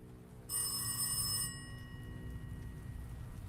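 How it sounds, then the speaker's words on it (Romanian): A telephone bell rings in a horror video game, one loud electronic ring burst lasting about a second, then quieter ambient game hum. "Sună telefon."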